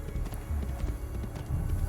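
Horse hooves clip-clop in Assassin's Creed 2, a steady run of rhythmic hoofbeats at close range over a low rumbling game backdrop.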